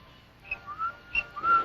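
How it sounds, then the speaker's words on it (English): A boy whistles as a signal in a World War II setting, several short, faint chirping notes rising and falling in quick succession, heard alone without talk. "The boy's whistling."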